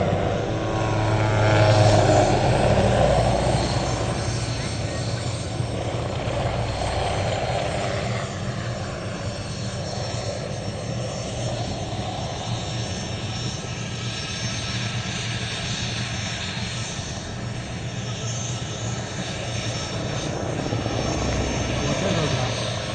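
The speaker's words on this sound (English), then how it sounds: "A Hughes 500 helicopter crashed moments later." A Hughes 500 helicopter drones continuously overhead at a helicopter sports competition near Minsk, Belarus, its rotor and engine noise loud and steady, with faint talk underneath.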